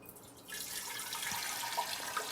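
Brewed tea poured straight into a jar for a new kombucha batch, a steady close liquid rush beginning after a brief quiet moment and continuing evenly to the end.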